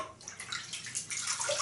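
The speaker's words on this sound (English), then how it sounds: "get a fresh sink of water because, as I suspected, it's cold." Tap water running steadily into a bathroom sink, filled fresh to wet a face before shaving; a continuous close splashing rush with no talk over it.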